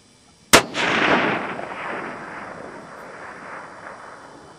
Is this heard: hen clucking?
no